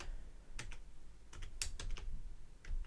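Quick bursts of computer keyboard typing as a machine name is entered, clusters of crisp clicking keystrokes separated by short pauses, close and clear with no talking.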